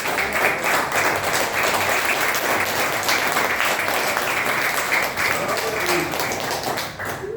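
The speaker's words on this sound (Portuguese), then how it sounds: "As palmas ao Senhor." During a church service, the congregation breaks into sustained applause, a thick continuous roar of clapping that stays loud and even throughout and thins slightly at the very end, with scattered voices underneath.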